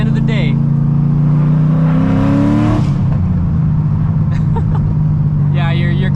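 Straight-piped, cammed Corvette Z06 engine heard from inside while driving, a loud raspy drone that swells as revs climb then settles into a lumpy rumble, with people talking over it.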